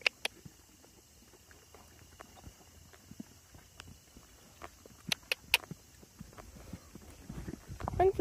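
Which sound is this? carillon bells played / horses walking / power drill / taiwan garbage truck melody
horses walking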